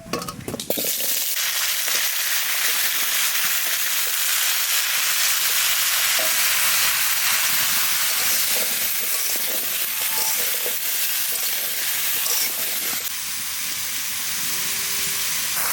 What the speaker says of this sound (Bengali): তেলটা গরম হয়ে গেছে, এবার চাল কুমড়ো আলু দিয়ে দেবো